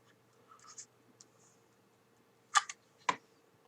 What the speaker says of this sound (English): I'm just going to push. It does not want to take that card in